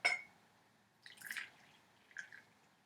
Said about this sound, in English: I'm going to pour myself a little bit of chamomile here